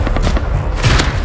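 Gunfire from the survival video game Rust: several sharp, loud shots in quick succession with heavy low booms, up close and dense.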